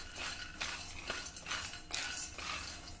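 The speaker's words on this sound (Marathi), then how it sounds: "हे शेंगदाणे देखील मंद गॅसवर आता आपल्याला छान खरपूस भाजून घ्यायचे आहे" Peanuts dry-roasting in a pan over a low flame, stirred with a steady run of rattling, scraping strokes about twice a second, close and fairly loud.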